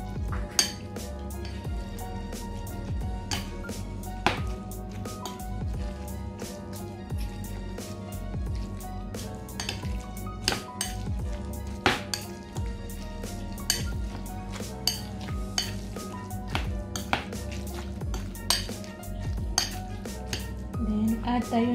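Half a chopped onion going into a pan of tuna, with repeated metallic clinks and scrapes of a utensil against the pan over a steady low hum, close and continuous.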